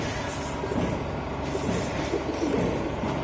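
Pigeons cooing at a pigeon seller's stall, including army and Giribaz pigeons, soft repeated coos in a noisy setting with a steady background rumble.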